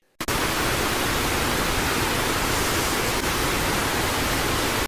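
Steady broadband white noise played as a sound for pet budgerigars, loud and unbroken from start to finish with no other sounds.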